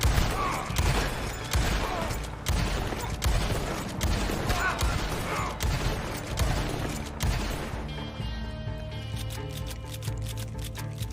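Rapid gunfire from a Red Dead Redemption shootout, set in Blackwater, cracks out in dense repeated volleys for most of the clip over game music, then gives way to a sustained musical tone near the end.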